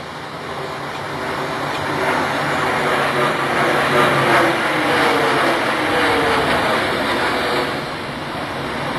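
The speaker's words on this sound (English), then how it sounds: "What's this other jet doing?" A jet aircraft roars overhead in a broad, loud rush that swells to a peak in the middle and then slowly fades as it passes, with no voices over it.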